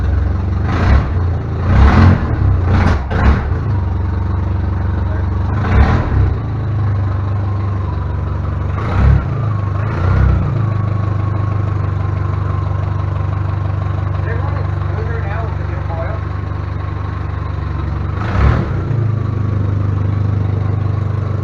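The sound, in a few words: 1956 Jeep engine started with push button, running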